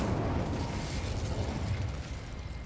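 Spell explosions in a video game, the fire-blast Confringo and Bombarda spells: a dense, continuous rumbling blast with crackling debris that stays loud and steady throughout, no speech.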